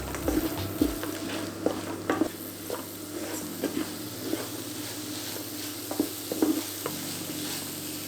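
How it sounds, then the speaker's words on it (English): Soy chunks go into a pan of vegan mutton-style curry with their soaking liquid, giving a steady close sizzle under scattered stirring clinks and scrapes, with no talking. "Now you can add the soy chunks into the pan."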